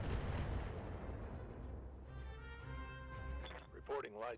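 Defensive turrets fire in the BattleTech mech game: a heavy artillery-like boom opens, then its rumble decays while a voice talks over the fading tail.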